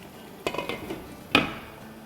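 A lid set onto a cooking pot of vegetables and chicken, giving a few light metallic clinks and a sharper clack, faint and close in a quiet kitchen.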